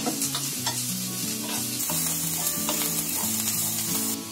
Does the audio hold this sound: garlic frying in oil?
yes